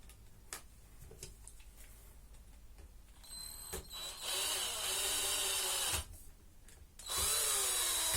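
A power drill drives screws back into a 1/5 scale Baja 5B/5T RC car while its throttle servo is changed, with a few ticking clicks, then loud, close whirring runs that stop and start.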